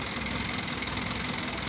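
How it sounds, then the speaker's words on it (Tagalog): An Isuzu diesel engine in a single-cab owner-type jeep idling, a steady, dense rattling drone with a knocking texture, close and constant throughout with no talk. "Check lang sila sa makina."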